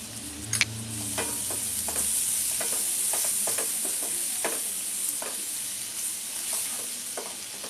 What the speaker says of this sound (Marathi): मिरची, थोडी कोथिंबीर, चांगलं परतून घेऊया।